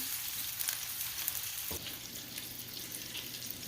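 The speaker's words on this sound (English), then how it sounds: "Whenever I make meatballs, I just like to start them off in a frying pan" Steady sizzling and crackling of meatballs frying in a hot pan, close and continuous, with a soft knock partway through.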